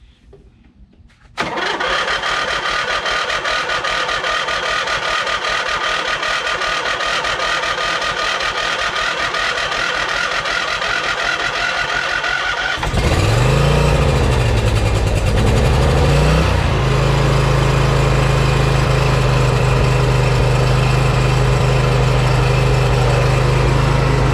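Kohler Courage 23 hp engine on a Gravely zero-turn mower, which starts hard: a short quiet lead-in, then a loud steady buzzing drone, and partway through a deeper revving rumble that settles into a heavy, even run.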